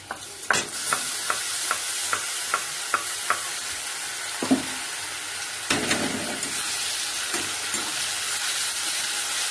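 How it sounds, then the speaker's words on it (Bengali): A ginger, garlic and green chili paste fries with browned onions in hot oil, a steady loud sizzle broken by a quick run of rhythmic spatula scrapes and then a few slower stirring strokes. "ভালো করে মশলাটা কষাবো যতক্ষণ রসুনের কাঁচা গন্ধটা না যায়"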